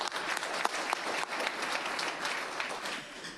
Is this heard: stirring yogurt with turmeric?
no